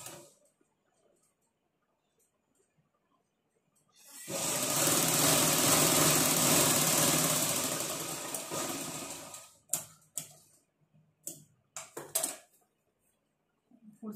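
A sewing machine stitches a folded strip of blouse fabric in one steady whirring run of about five seconds, then gives several short bursts as the stitching stops and starts.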